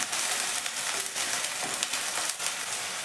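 Onion and ginger paste frying in a pan, a soft steady sizzle with faint stirring scrapes and small crackles running throughout, no voices.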